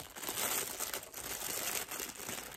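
Plastic packaging of a silicone baby doll's toy accessories crinkles and crackles continuously, close and fairly loud, for a couple of seconds with no talking.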